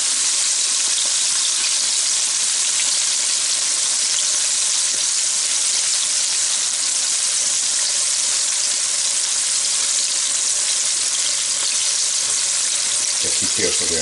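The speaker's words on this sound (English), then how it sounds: "Or we just let these fry. Maybe a minute and a half on each side." Chicken drumstick lollipops frying in hot oil give a steady, close, bright sizzle that holds evenly throughout, with faint bubbling and a few soft clinks near the end.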